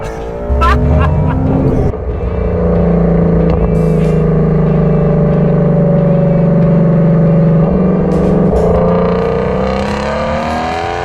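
A Ford Shelby Mustang GT350R engine revs hard toward 8,000 rpm, a loud, close, rising roar that holds high and then eases off.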